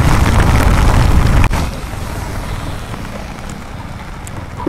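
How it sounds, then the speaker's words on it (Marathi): Heavy rain pours down in a loud, dense, continuous roar, with a brief knock early on and the downpour easing slightly afterwards. "पाऊस पण खूप जोरात आहे भरपूर पाऊस आहे"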